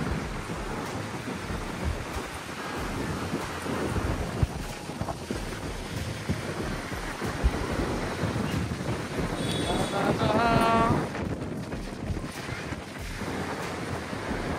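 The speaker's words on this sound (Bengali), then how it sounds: "বাতাসের কমতি নেই।" Strong seaside wind at the Cox's Bazar beach buffets the microphone in a continuous roar, with surf rumbling underneath and a brief swell in gusting near the end.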